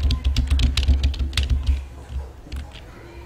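Typing on a wireless computer keyboard, a close run of quick, uneven key clicks that slows to a few scattered taps near the end.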